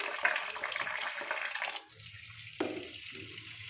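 Water runs and splashes steadily while soap foam is rinsed away, likely off soaked red lentils, a continuous close washing sound with a brief pause and a renewed gush partway through.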